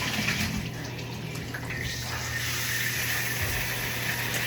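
Shower water runs steadily in a home master bathroom, a constant broad hiss with a low hum underneath, fairly close and unbroken throughout with no talking.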